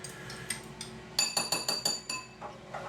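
Crab stick filling being mixed in a bowl produces a run of quick, close clinks and taps of utensil against the bowl, several in rapid succession, with no talking.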